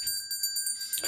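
A bell rings for the final lap of a cycling race, a bright sustained metallic tone with repeated quick strikes, close and clear with no talk over it.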